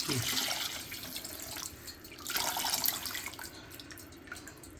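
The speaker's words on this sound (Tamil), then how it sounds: "ஒரு லெமன் சைஸ் புளி அதை கரைச்சி வச்சுருக்கேங்க, அதை கொட்டிக்கலாம்" Tamarind water is poured into a masal vadai kuzhambu curry, a soft, uneven splashing and trickling stream that swells in two bursts before tapering off, close and fairly quiet.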